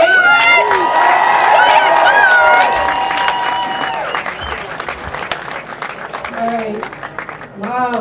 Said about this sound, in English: let's make some noise one more time for all of you